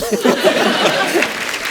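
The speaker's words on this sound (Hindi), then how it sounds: "एक बार जोरदार तालियां सनी बाजी के लिए" Studio audience applause on a comedy talk show, a dense patter of clapping mixed with a little laughter, moderately loud and continuous for the short stretch.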